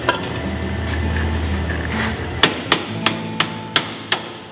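A hammer strikes a car handbrake part to flatten it, six sharp metallic blows in quick, even succession near the end, close and loud after a stretch of low workshop rumble.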